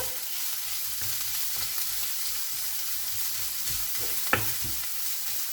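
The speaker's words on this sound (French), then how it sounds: "Je vais faire revenir la viande." Lean minced beef frying with onions in a pan: a steady, even sizzle with occasional stirring scrapes and one sharp clink near the end, fairly quiet and continuous, no talk.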